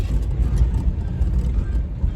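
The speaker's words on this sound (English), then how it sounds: "this 350 V8, that's the engine that you want" A 1990 Cadillac Brougham with a 350 V8 cruises at highway speed, giving a loud, steady low rumble of engine and road noise from inside the car without a break.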